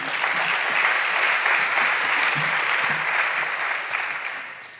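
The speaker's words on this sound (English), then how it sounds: "Big applause, please." A conference audience at a data spaces panel event applauds in a dense, sustained burst of clapping that carries on evenly for several seconds before tapering slightly at the end.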